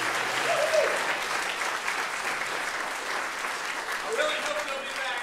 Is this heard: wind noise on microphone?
no